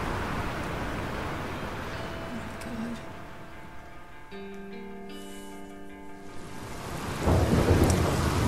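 Thunderstorm in Life Is Strange, heavy rain pouring steadily with low rumbling thunder, a few tonal hums in the middle, and a louder surge of rain at the end.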